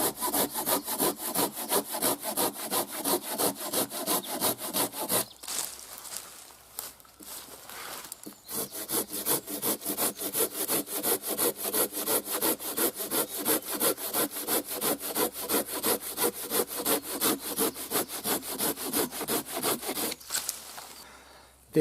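A Silky Zubat pruning saw cutting small wood branches by hand, with steady rapid back-and-forth rasping strokes that continue evenly, pause for a few seconds, then resume in the same quick rhythm, close and alone.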